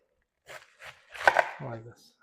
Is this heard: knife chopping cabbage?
yes